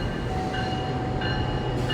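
Parahyangan premium and executive class passenger train arriving from the east out of Bandung, a steady close rumble of rolling wheels and cars with faint higher squeals, no voices.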